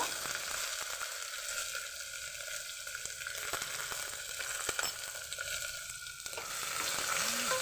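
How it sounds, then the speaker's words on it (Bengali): Onions frying and being stirred with bay leaves in oil for a mutton curry, a steady close sizzle with scraping stir strokes throughout, no talking. "নাড়িয়ে নিলাম আমি দেখুন অর্ধেক পেঁয়াজ আমি এখন দেব"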